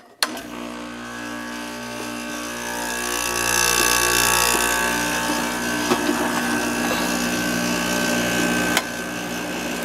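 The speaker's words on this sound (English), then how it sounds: "up next, 5000 BTU Whirlpool, made by LG. This has a Matsushita compressor in it. Let's see if we can get it to start." A 5000 BTU Whirlpool window air conditioner built by LG with a Matsushita compressor starts: a click, then a loud steady mechanical hum with tonal whine that swells as the compressor and fan run up, ending in a sharp click.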